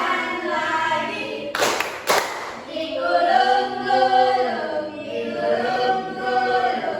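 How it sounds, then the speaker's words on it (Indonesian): A pair of quick, loud hand claps rings out in a classroom, followed by children and a teacher singing together in a steady chant. "tepuk tangan lagi."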